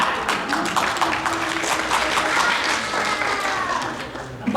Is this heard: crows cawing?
no